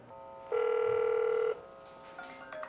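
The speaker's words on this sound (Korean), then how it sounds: "전화 왔어." An old home telephone, close to thirty years old and kept in a long-running restaurant, gives a single electronic ring lasting about a second over a quiet room.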